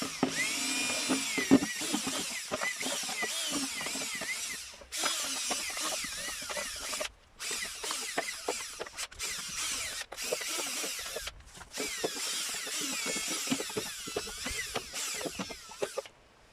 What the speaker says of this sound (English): I'm just going to drill a load of holes in this.